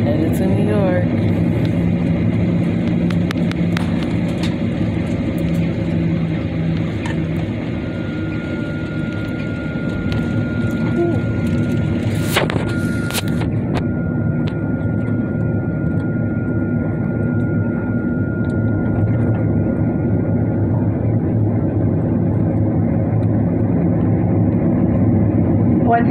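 An American Airlines jetliner on its takeoff run toward New York, heard from inside the cabin as a steady, loud engine roar that builds slowly. Faint clicks and a thin tone sit above the roar.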